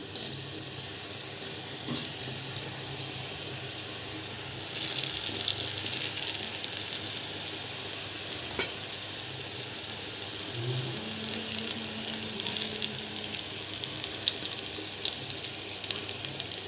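Bhaji batter made from chickpeas is dropped piece by piece into hot oil in a kadai and fries with a continuous soft sizzle and crackle, with faint bubbling and occasional low clinks.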